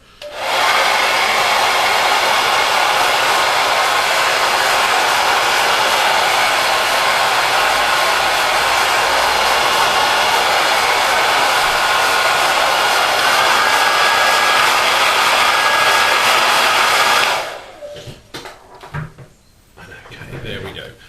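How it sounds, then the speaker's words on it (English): A hair dryer blows loudly and steadily for about seventeen seconds while drying a plastic scale model kit, then switches off, leaving faint handling noises. "Grab your hairdryer."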